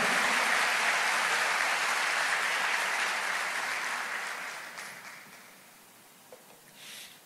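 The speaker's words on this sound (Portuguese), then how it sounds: "Você pode aplaudir o Senhor e dizer: eu creio nessa palavra." A church congregation applauds during a sermon, a broad wash of clapping that starts full and loud, then gradually fades out over several seconds, leaving scattered final claps.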